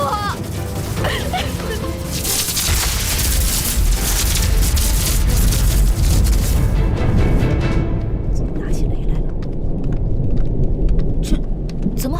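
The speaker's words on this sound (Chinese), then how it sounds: "端端的打起雷来了，这天宫也下雨吗？" Heavy rain pouring down with deep, rolling thunder rumbling loudly and close, easing toward the end, in a drama scene.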